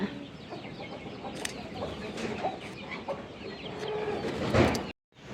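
Hens cluck and chatter continuously with occasional sharper squawks and a rooster's call, a busy poultry shed on a farm close by, ending in a brief silence.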